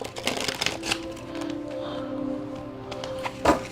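Cards riffled and shuffled up close, a rapid fluttering patter with a few sharper snaps and clicks, no talking.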